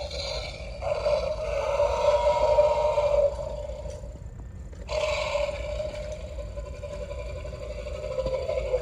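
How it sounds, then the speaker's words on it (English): A low electronic roar from a toy T-Rex rumbles for a few seconds, pauses briefly, then sounds again, steady and fairly loud with a buzzy, synthetic edge. "This will make it sound like this T-Rex here on the electronic real feel."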